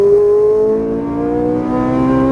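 A Ferrari 458 Italia engine on a racetrack holds a loud, close, steady high-pitched roar under acceleration, its tone climbing gradually with no talk over it.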